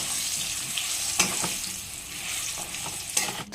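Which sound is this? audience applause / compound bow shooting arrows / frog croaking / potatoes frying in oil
potatoes frying in oil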